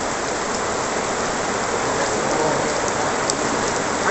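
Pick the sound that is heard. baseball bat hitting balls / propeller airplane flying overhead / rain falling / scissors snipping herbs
rain falling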